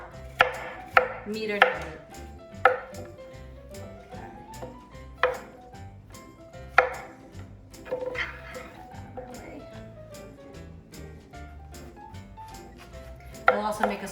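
Vegetables being cut into bite-sized pieces for a vegetarian baked ziti, a steady run of sharp knife-on-board chops, close and clear, with a few louder strikes and a voice speaking briefly.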